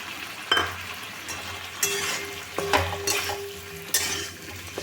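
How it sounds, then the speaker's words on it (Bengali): A spice paste of turmeric, Kashmiri chili and coriander hits a hot pan for a Bengali pumpkin chhokka, with a steady low sizzle, stirring scrapes and a few utensil clinks against the pan. "এবার এখানে হলুদ কাশ্মীরি লঙ্কা ধনে গুঁড়োর যে পেস্টটা বানিয়েছিলাম এই মশলাটা দিয়ে দিচ্ছি"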